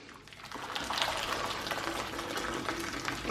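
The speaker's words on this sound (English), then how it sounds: "going to put some boiled water, just about cover it" Boiled water pours into a cooking pan for a British Sunday roast, a close, steady splashing gurgle that builds after a brief quiet start and continues without pause.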